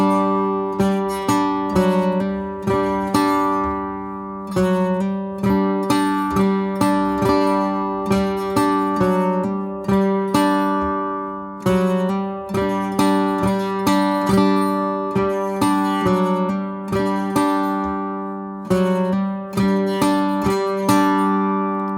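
Acoustic guitar strummed in a steady down-up pattern, bright chords ringing clearly and repeating in an even rhythm.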